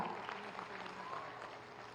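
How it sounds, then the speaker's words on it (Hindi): Scattered applause from an audience at an outdoor village government event in Uttar Pradesh, India, fairly faint and steady for a couple of seconds, with a low murmur of the crowd underneath. "आप ताली बजाएं"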